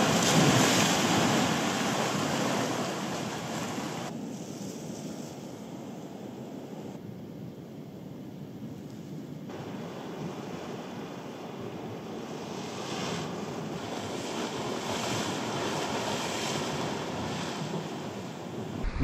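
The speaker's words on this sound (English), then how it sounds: "A couple of cool wee caves here as well, just where the part of the sea is eating into the headland." Sea waves washing against a coastal headland with small caves in the Urris Hills, Donegal: a broad, continuous roar of surf mixed with wind buffeting the microphone, steady throughout.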